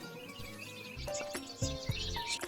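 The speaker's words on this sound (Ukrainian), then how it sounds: "А ось і шпачок прилетів попрощатись." A starling chirps and whistles in short bright calls, some clear tonal notes rising over a busy background of other sounds, irregular and fairly close.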